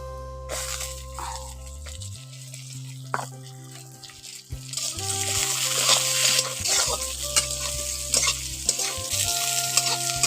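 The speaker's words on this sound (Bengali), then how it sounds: "এবার এর মধ্যে দিয়ে দিচ্ছি বেগুন বেগুনগুলোকে পেঁয়াজের সঙ্গে একটু ভেজে নেবো" Eggplant pieces frying with half-cooked onions in a pan produce a loud, steady sizzle that swells midway, with occasional utensil clinks and stirring scrapes close by and no talking.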